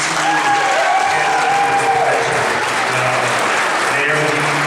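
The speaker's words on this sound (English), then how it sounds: "If you all can give them a round of applause." A convention audience at an anime festival opening ceremony gives a dense round of applause for the volunteers, the steady clapping filling the hall while a voice talks over it.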